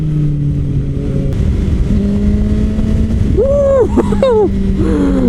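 A Suzuki GSX-S750 motorcycle with an aftermarket exhaust, heard while riding: a steady engine drone under rushing wind, then a quick rise and fall of revs as it accelerates and shifts near the end.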